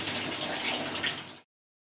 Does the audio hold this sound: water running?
yes